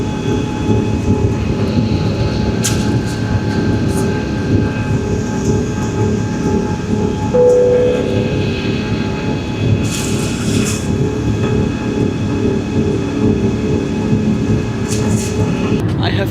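Steady engine and air roar fills an airliner cabin, heard from a seat at the very back of the plane, a continuous loud drone with faint clinks and rustles over it.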